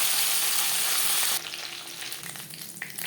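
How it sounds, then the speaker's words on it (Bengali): Hilsa fish pieces and the fish head frying in oil, a loud dense sizzle that abruptly drops to a quieter crackle partway through, with scattered pops continuing to the end. "পরে মাছ ও মাথা একইভাবে ভেজে নেব।"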